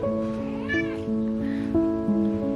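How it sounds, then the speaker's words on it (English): A house cat meows once over steady background music with a faint patter like rain, close and clear, with no talk over it. "And my cat is here"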